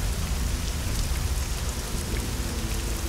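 Heavy rain pours down constantly in the stealth game Hitman: Blood Money, a loud, dense hiss of falling water with nothing else heard over it.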